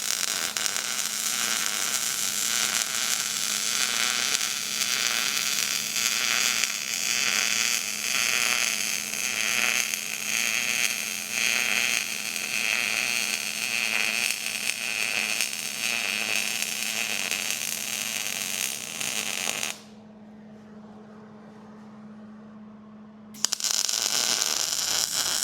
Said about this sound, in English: We're going to weld this thing.